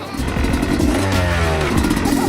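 A Yamaha YZ 250 dirt bike ridden hard, its two-stroke engine revving and rising in pitch as it accelerates, loud and close throughout.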